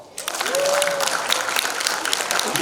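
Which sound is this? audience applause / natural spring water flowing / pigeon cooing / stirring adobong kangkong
audience applause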